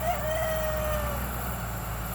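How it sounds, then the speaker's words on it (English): Roosters crow from a distance on rural land being cleared for walnut tree removal, one drawn-out call standing out early over a steady low engine-like rumble that fills the background. "I guess the roosters are getting nervous,"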